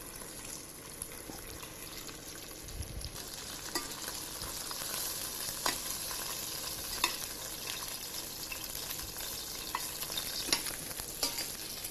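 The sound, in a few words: chicken thighs sautéing skin side down in pan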